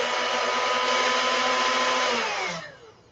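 A 1950s Waring blender whirs steadily at high speed while blending a banana drink, loud and close, then spins down and fades at the end.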